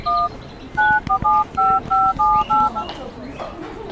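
Touch-tone keypad beeps as a phone number is dialed on a borrowed mobile phone, a quick run of about nine dual-tone presses in an uneven rhythm, close and clear over faint room noise.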